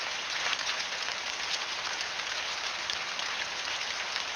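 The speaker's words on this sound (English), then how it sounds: "In the wilderness, the first droplets of rain tenderly caress the leaves, a gentle whisper of rejuvenation." Rain falls steadily on leaves in the wilderness, a dense, even hiss of countless droplets that stays close and constant throughout, with no voices.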